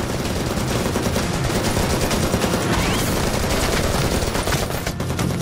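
Dense, continuous gunfire fills a film battle scene, with rapid automatic bursts and overlapping shots forming a loud, unbroken barrage.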